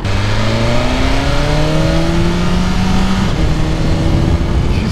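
A 2021 BMW S1000RR motorcycle engine, running through a restrictive stock exhaust with catalytic converter, revs loudly and continuously, its pitch climbing steadily across several seconds before dipping slightly near the end.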